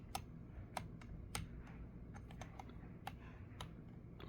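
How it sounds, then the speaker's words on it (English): Mechanical keyboard keys clacking as they spring back up on release, one key's stabilizer rattling louder than the rest; a run of sharp, close clicks at irregular intervals over a quiet room hum, with no talking. "This one's fine when I press it down, but when it come up, that's where it clacks"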